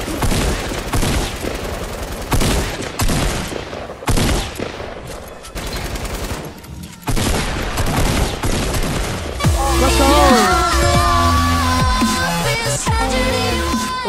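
Fortnite: Battle Royale gunfire in a duos match, with repeated loud bursts of rapid automatic shots and single cracks. The shooting gives way to bright, ringing musical tones near the end.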